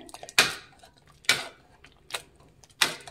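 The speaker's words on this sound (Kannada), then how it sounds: "ಟೊಮೆಟೊನ ಚೆನ್ನಾಗಿ ಮ್ಯಾಶ್ ಮಾಡ್ಕೊಬೇಕಾಗತ್ತೆ." Cooked tomatoes being mashed inside a pressure cooker for bachelor's tomato rasam, heard as four sharp metallic scrapes and knocks of a utensil against the pot, spaced apart, close and fairly clear, with no talking.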